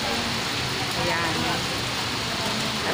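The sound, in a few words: heavy rain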